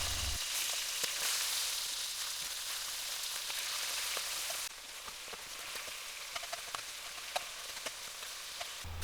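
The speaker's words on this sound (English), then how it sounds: "Sear the second batch using the blender fat." Duck pieces sear in hot duck fat with a steady, dense sizzle and occasional pops, close up, with no talking.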